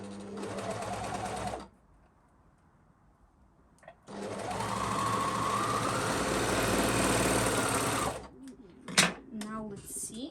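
A sewing machine stitches lace panties in two bursts: a short run, a pause of about two seconds, then a longer steady whirring run, followed by a few clicks and handling sounds.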